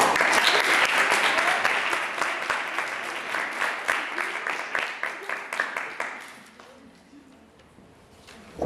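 Audience applause at a science debate, sustained clapping from a crowd for about six seconds, dense with distinct individual claps, then thinning out and fading to quiet.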